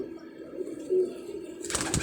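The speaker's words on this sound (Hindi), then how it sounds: "ये देखें भाईजान, ये बैठा कबूतर।" A caged pigeon offered for sale coos softly in a low, steady tone, followed near the end by a brief burst of rustling or wing flapping.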